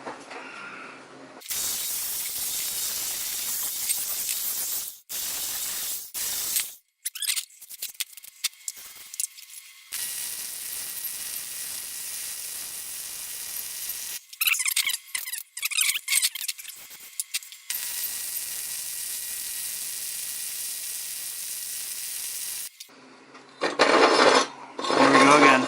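A flux-core wire welder lays beads on a gate's wheel cover, giving long close crackling hisses broken by short pauses and clicks between runs.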